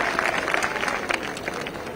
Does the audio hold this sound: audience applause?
yes